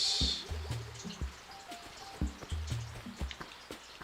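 Rain falls in the Animal Crossing video game, a soft pattering of drops mixed with bright, plinking game tones and short musical notes that repeat rhythmically.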